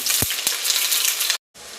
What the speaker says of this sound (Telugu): ఆయిల్ కాస్త వేడెక్కినాక ఆనియన్ ముక్కలు వేసుకోవాలి.